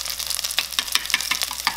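Omelet mixture seasoned with black pepper, white pepper and salt fries in a pan, giving a close, bright sizzle with quick crackling bursts and faint stirring scrapes, no voices.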